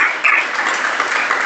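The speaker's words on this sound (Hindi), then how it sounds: "ताली तो बजा दिया आपने।" Applause from a crowd at a Jain religious discourse, steady and dense for about a second and a half without pause, fairly close and alone.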